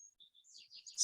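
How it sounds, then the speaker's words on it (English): A bird calls outdoors with a few thin, high chirps and tweets in quick succession, faint and somewhat distant, with no voices. "Sounds like that bird is answering them"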